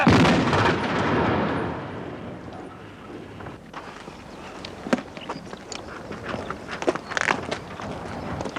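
A volley of loud gunfire on command opens with a heavy, booming blast that decays over a couple of seconds, followed by scattered sharper cracks and shots further off, with wind rumbling outdoors and no talk.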